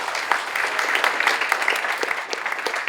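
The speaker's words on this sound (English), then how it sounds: "Round of applause for her." A crowd claps steadily and enthusiastically for a few seconds, dense applause with no pauses.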